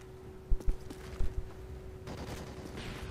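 Gunfire in the video game Call of Duty Modern Warfare 3: two quick clusters of shots crack out fairly faintly over a low, steady background hum, with no talking.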